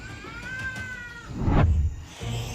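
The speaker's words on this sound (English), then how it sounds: "The little cat squealed terribly and in pain" A small cat squeals and yowls in pain as a Komodo dragon bites it: a drawn-out, wavering high cry, then a harsh scuffle and thrashing, close and loud.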